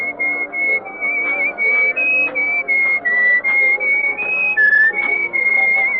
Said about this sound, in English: you were whistling our tune